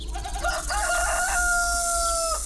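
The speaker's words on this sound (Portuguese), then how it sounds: "Foi fazer isso e o galo cantar." A rooster crows loud and close, one long drawn-out call that rises and then holds for about two seconds over a low background rumble.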